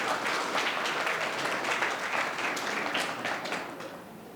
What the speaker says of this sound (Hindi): आप तालियां बजा सकते हैं।